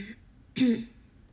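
One short, moderately loud cough bursts out mid-clip during an Instagram live, with quiet room noise before and after.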